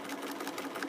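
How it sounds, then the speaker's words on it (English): A sewing machine runs steadily, stitching across a neck cooler chill tie filled with cooling crystals, its fast even needle chatter continuing without pause and fairly close. "I'm going to sew that one shut now to keep the chill tie crystals inside the chill tie."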